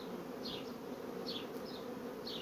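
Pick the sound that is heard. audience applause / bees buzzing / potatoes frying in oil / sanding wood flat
bees buzzing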